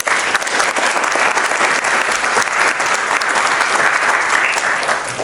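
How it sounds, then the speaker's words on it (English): An audience at a student government day event applauds, a loud, dense, steady burst of clapping from a large crowd that holds evenly for the whole stretch without talking. "So let's give him a round of applause."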